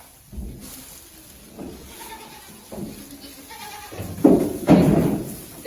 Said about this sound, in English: The grayish colored pygmy goat here